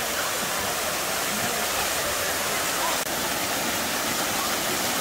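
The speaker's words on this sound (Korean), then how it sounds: "여기가 장류 폭포입니다." A waterfall at a valley in Gimhae, South Korea, roars in a steady, dense rush of falling water, constant and close, with no clear voices above it, though the falls carry little water.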